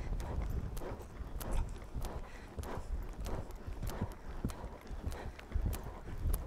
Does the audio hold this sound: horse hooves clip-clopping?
yes